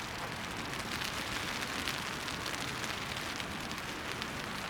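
Steady rain falls on a backpacking camp in Montana's Mission Mountains, a continuous close hiss of drops spattering on nearby surfaces, even and unbroken throughout with no voices.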